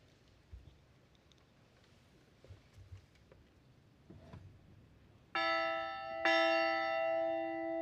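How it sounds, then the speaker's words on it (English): A ceremonial bell at a school commencement rings twice outdoors, each clear metallic strike ringing on with a long sustained tone after quiet ambient sound. "to ring the bell in their honor today."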